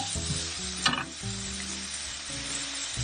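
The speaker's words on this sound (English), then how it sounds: "I'm going to brown it a little bit together with the onions" Bacon browns with onions in a pan, frying with a steady close sizzle, a single stir or scrape breaking through about a third of the way in, with faint hums from the kitchen beneath.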